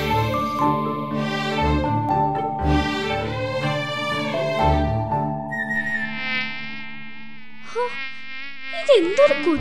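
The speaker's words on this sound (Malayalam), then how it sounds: "ഇതെന്തൊരു കൊതുക്!" A cartoon mosquito gives a high, whining buzz that rises and wavers in the later seconds, following an opening stretch of tonal, musical sound with soft low thumps.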